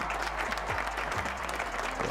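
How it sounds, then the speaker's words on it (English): An audience claps for a nonprofit organization during a charity livestream event. The applause is dense and steady, fairly quiet, and lasts about two seconds with no talk over it. "Round of applause for Addix."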